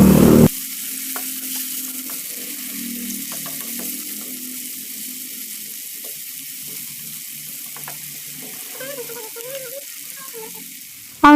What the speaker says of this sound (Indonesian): kita akan tumis bumbunya sampai benar-benar harum